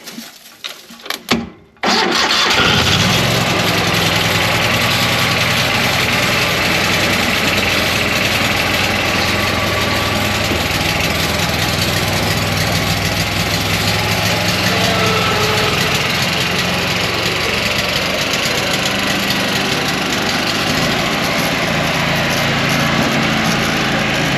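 Heavy equipment engine cranks briefly, catches and settles into a loud, steady low rumbling idle that runs on without a break, with no talk over it.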